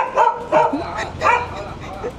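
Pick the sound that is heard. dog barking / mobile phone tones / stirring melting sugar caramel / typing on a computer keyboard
dog barking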